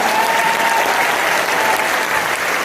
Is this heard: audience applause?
yes